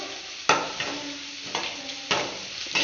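Onions for vendaikai thokku sizzling steadily in a pan, close up, while a spoon scrapes and stirs in three distinct strokes over the constant frying hiss.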